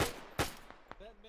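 Short bursts of .30 cal machine gun fire in an ARMA 3 WW2 mod battle, a few sharp reports spaced across the moment, moderately loud with faint voices in the background.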